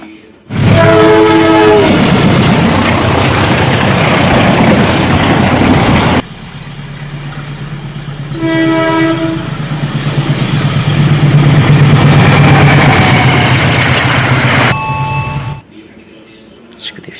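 A CC 205 diesel locomotive passes close by, its horn sounding in loud stacked tones at the start and again midway, over a heavy rumble and rolling wheel noise that swells and then drops away near the end.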